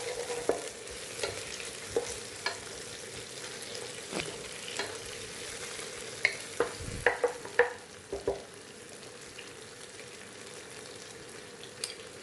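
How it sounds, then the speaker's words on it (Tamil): Bukhari masala and tomato sautéing in hot oil, a soft steady sizzle with scattered scraping stir strokes from a spoon in the pan, several sharper clinks midway, no talk. "இதை எண்ணெயில் வதக்கி விட்டுட்டு"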